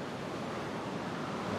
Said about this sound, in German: Ganz schön windig.